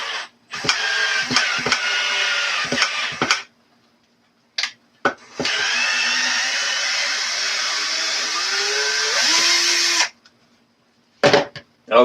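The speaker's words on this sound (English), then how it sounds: "I just pulled a screw out of there" A power drill backs a screw out of a block of wood from the backyard: bursts of whirring open the clip, then a long, steady, loud grinding run, followed by a few more short bursts.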